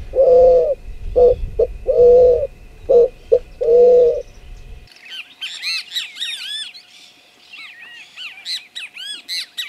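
Spot-winged pigeon calling in Esperanza, Santa Fe, Argentina: a series of about six loud, low, rhythmic coos, followed by a busy chorus of higher chirps and squawks from other birds.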